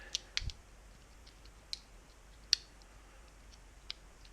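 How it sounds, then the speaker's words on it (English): A few small, sharp plastic clicks as a battery balance plug is pushed into an FPV drone board, spaced apart, close by in an otherwise quiet room. "So balance plug plugs into here"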